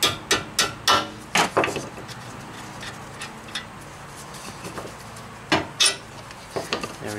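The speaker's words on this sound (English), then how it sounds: "and then I'm just gonna hammer it out" Hammer blows drive a bolt out of the steering knuckle of a 2002 Mitsubishi Lancer during a wheel bearing job, a burst of sharp metallic strikes followed by scattered lighter taps and clinks, moderately close.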